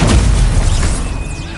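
The Incendio fire spell is cast in Hogwarts Legacy: a loud, close, booming whoosh of flame bursts out at once, then rolls off and fades over about a second and a half.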